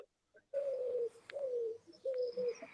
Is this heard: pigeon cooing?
yes